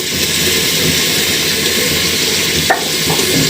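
Loud, steady frying sizzle of cinnamon and bay leaf in hot oil in a pan, a dense continuous hiss with a brief stir clatter near the end.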